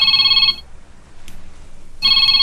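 A cellphone ringtone sounds in a loud, close electronic trill, stopping for about a second and a half of near silence before ringing again.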